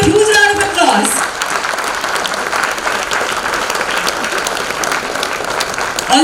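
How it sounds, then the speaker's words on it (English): Audience applause at a business-chamber curtain-raiser event, a sustained wash of many hands clapping that fills the whole stretch at steady, loud volume. "Let's give a huge round of applause."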